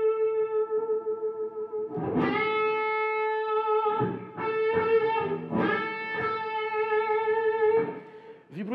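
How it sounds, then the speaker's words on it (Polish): Electric guitar with effects playing sustained notes, one pushed up a whole tone by a string bend, heard clearly and alone with distortion and echo. "musimy osiągnąć ten dźwięk, podciągając poprzedni dźwięk o cały ton"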